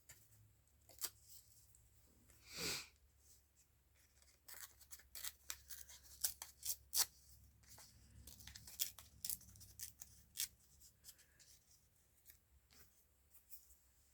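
Paper picture being cut and torn in half for a calendar collage, with scattered close snips and rustles over several seconds, a soft swishing burst early, and quiet room tone between.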